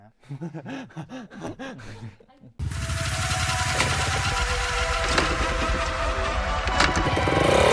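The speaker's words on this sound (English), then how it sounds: "This week, they go dirt bike riding." Dirt bike engine roaring loudly and steadily while riding, starting abruptly after a stretch of talk and building toward the end.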